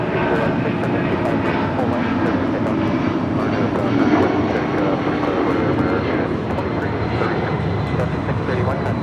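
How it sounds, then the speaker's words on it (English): A Delta Air Lines Boeing 757-200, flight 631 to Mexico City, takes off from LAX with a loud, continuous, rumbling engine roar that holds steady throughout. "This is Delta Airlines 631 taking off to Mexico City on a 757-200"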